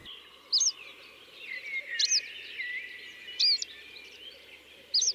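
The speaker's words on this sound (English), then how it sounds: "One of the area's characteristic birds, the yellow wagtail, ventures close to the cameraman to take a look at the visitor." Yellow wagtail giving four short, sharp calls spaced about a second apart, close and clear over a steady faint background of insects and distant ambient hiss in open wetland country.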